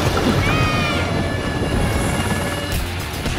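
Helicopter in the video game Battlefield Hardline, set around a flooding skyscraper: a loud, steady rotor and engine roar fills the whole stretch with a constant dense rumble and whine, close and unbroken.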